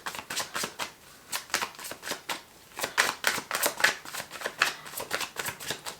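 Tarot cards being shuffled and drawn for a reading, a run of close, crisp riffling bursts in an uneven rhythm, fairly quiet and with no voice.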